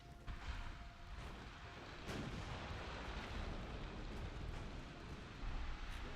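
In the naval warfare game Ultimate Admiral: Dreadnoughts, a torpedo strikes a ship, heard as a run of deep, rumbling booms and blasts that roll on continuously with no talking.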